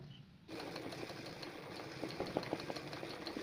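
An embroidery sewing machine stitching a running stitch starts abruptly and runs as a steady close mechanical whir with rapid rhythmic clicking, continuous throughout with no voices.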